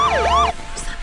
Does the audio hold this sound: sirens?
yes